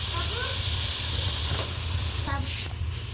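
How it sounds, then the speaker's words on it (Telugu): Onion and tomato paste frying in hot oil, a steady close hiss and sizzle running through the whole stretch at even loudness, with a few faint tonal sounds from the background. "ఉల్లిపాయలు టమాటా పేస్ట్ వేగుతుంది ఫ్రెండ్స్."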